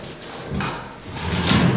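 A drawer built into a newly assembled bed slides open and shut indoors, giving two short, close scraping slides about a second apart with no talk over them.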